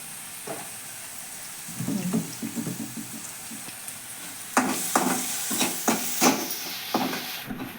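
Broad beans frying in a pan, a soft sizzle under repeated scraping stirs that come in uneven clusters, growing sharper and louder in the second half.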